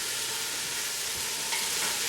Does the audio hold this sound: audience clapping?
no